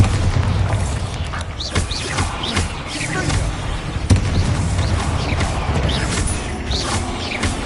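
A Bombarda blasting spell explodes in the Harry Potter video game Hogwarts Legacy: a loud, dense rumbling roar with scattered crashing hits that stays heavy for the full several seconds.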